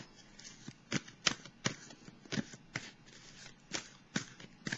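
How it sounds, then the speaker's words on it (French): Tarot cards are shuffled by hand in a quiet room, giving a run of soft, papery riffles and slaps in an uneven rhythm, close and alone. "Quand je brasse les cartes, ça fait un bruit de fond."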